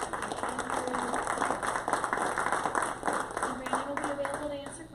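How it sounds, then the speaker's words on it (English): An audience at a military-connected mentorship meetup claps in a dense, moderately loud patter under a speaking voice. "let's give a big round of applause to Brandon"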